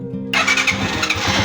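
A Rusi 150 motorcycle engine cranks and fires after a brief hush, the starter whine giving way to a close, loud idle burble.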